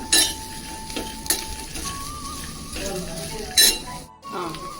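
Peanuts and onion frying in a pan for a chutney, with a steady sizzle, stirring scrapes and a few sharp clinks of a utensil against the pan, close up and with no talking.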